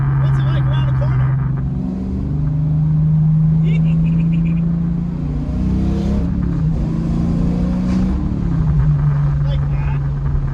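A 1971 Dodge Challenger with a swapped 392 V8 rounds a corner, its engine burbling loudly from inside the car, easing off then revving back up through the turn while someone talks over it.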